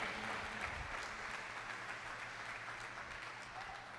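A church congregation applauds, a faint and distant wash of steady clapping that holds at an even level for several seconds.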